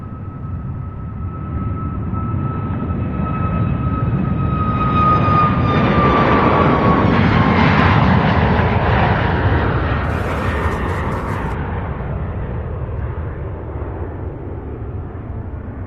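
An airliner in Destination 225 livery lands at Louisville's SDF airport, its jet engines building from a whining approach to a loud roar that peaks midway and then fades off, with no talking.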